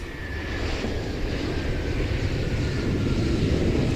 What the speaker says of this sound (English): Plane taking off was Asiana Airlines flight 7375 off to Kota Kinabalu